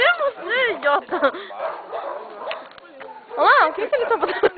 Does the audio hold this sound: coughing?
no